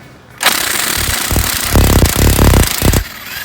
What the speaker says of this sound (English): I have it red hot right now. You want to be fast here. Hammer it on.